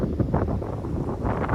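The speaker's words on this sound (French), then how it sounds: "Un petit vent là" A light mountain wind buffets the microphone in a continuous low rumbling rush, steady and close, with no voices.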